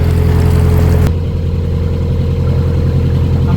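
A narrowboat diesel engine runs steadily at about 1300 RPM on a rural canal, a close, even low throb with a continuous hum; a brief broadband rush at the start fades after a second.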